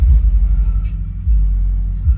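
A 1998 Isuzu Amigo engine idles with a deep, steady low rumble close by, swelling slightly in places.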